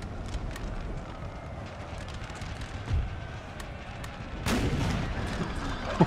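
Troops firing musket volleys in the strategy game Napoleon: Total War: a dense rumbling battle bed of scattered gunfire crackle and distant booms, with a stronger burst of firing near the end.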